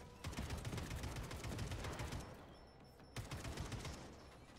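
Automatic fire from an AK rifle in a video game rattles in rapid, dense bursts, breaks off briefly around the three-second mark, then resumes with loud, close shots.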